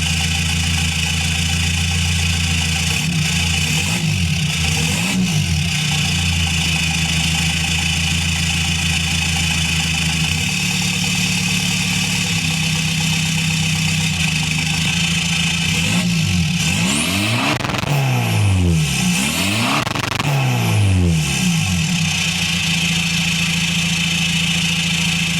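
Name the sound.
Caddy van engine idling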